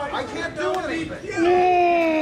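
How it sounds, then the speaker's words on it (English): A wrestling event crowd screams, hoots and hollers, a dense wash of overlapping yells with a few rising whoops, the roar swelling louder halfway through and holding steady to the end. "The crowd's screaming. They're hooting and hollering."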